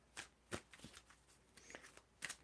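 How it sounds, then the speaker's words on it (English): Tarot cards are being shuffled up close, giving several quick papery riffles and soft slaps in an irregular rhythm, with faint background noise between bursts. "Can you tell me when to stop shuffling, Jazz?"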